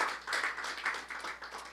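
Audience applause for Professor Kim Chi-hun after a lecture, a steady wash of many hands clapping together at moderate loudness, with no voices over it.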